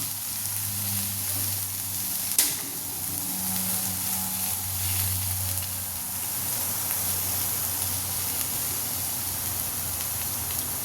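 Banana stem poriyal sautéing in a pan, a steady soft sizzle and hiss running throughout with a low hum beneath and one sharp click near the start.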